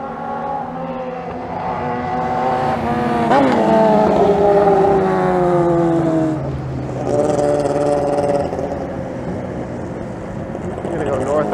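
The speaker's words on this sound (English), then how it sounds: "Sounds like an Indy car." A powerful engine roars loudly along a Toronto street near the waterfront, its droning pitch climbing and sliding like an Indy car as it passes, then fading before a second surge.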